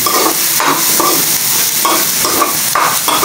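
Bean sprouts (taugue) are stirred in a hot pan, loud steady sizzling and frying with rhythmic scraping strokes of the spatula about once every half second, close up and without voices.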